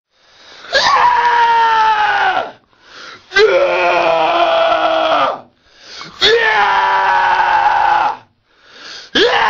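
A voice actor lets out loud, drawn-out screams, four long strained wails separated by short breaths, harsh and close.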